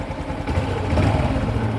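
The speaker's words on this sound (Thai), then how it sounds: "อันนี้สตาร์ทเครื่องแล้วนะครับ" Honda Wave 110i motorcycle with alloy wheels idling just after starting, a steady, fairly quiet engine hum with a light mechanical clatter and no revving.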